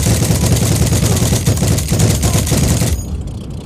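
A tank's machine gun in the online war game Heroes & Generals fires a loud, dense, continuous burst for about three seconds, then cuts off abruptly, leaving only a faint tail.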